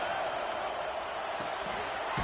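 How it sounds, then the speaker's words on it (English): A stadium crowd roars in a college football video game between Oregon and Florida, a steady, dense wash of distant cheering with no break, moderately loud throughout. "The roar of the crowd trying to fuel this defense to keep them pinned in their own end."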